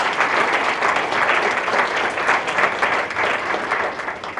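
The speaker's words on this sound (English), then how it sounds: "Can we give them another round of applause?" Audience applause at an NHIOP event with Tulsi Gabbard: dense, steady clapping from a sizable crowd, sustained at an even level throughout with no talk over it.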